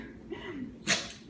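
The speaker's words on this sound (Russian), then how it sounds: "Ты уже 5 минут чихаешь." A Shih Tzu dog gives a single sharp, quiet sneeze near the end, preceded by soft snuffling breaths.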